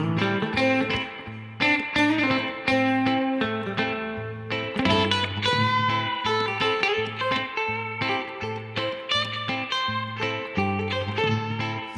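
Electric guitar with effects and light distortion plays pentatonic scale lines over a steady repeating chord vamp backing, melodic phrases running continuously and loud for the whole stretch.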